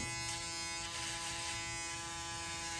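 Electric hair clippers buzzing steadily and close up while cutting a taper fade, an even, continuous hum with no voices.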